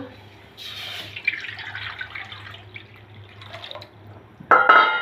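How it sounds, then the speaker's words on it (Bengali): Water pours steadily into a metal kadai on the stove for cooking dal, a soft splashing rush that thins toward the end before a brief louder clatter. "আমি চুলাতে একটা কড়াই বসে দিয়েছি পরিমাণ মতন পানি দিয়ে দিচ্ছি"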